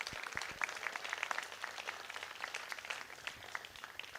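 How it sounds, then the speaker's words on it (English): A crowd applauds at the William Hammond Hall awards ceremony, a dense, steady stream of many individual claps lasting several seconds, heard from a moderate distance with no talk over it. "Give yourselves a big round of applause."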